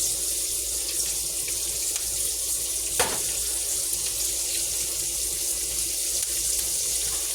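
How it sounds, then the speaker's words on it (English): Onions sauté in a pan while gravy for smothered chicken thighs is being prepared, giving a constant hissing sizzle at moderate level throughout with one brief clack. "I'm gonna let the onions saute down"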